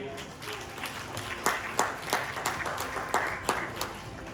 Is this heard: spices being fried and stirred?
no